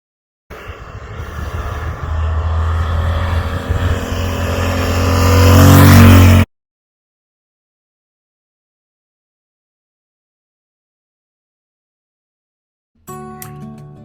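A 1991 Honda Goldwing motorcycle rides on the road, engine and wind rumbling loud and rising for several seconds before cutting to silence, then a brief burst returns at the end.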